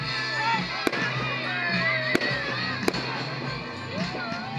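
Sharp distant bangs of New Year's fireworks going off, three or four separate pops over a busy background with voices and other chatter.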